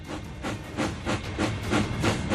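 A steam locomotive descending the Big Hill, a 12-kilometer, 4.5% grade on a Canadian railway, gives off rhythmic pulsing hisses of steam, steady repeated bursts at a moderate distance with no voices.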